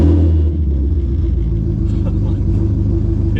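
Ford Mustang GT350 V8 fitted with long tube headers idling, a loud, deep, lumpy rumble with a steady pulsing throb, close and continuous with no break.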